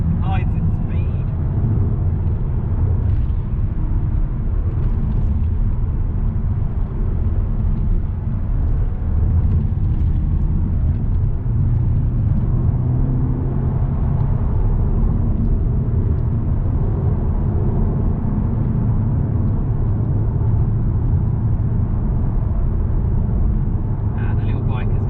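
A manual Mk7 Volkswagen Golf R on the move, its engine a steady, loud low drone blended with road and wind rumble that continues unbroken throughout.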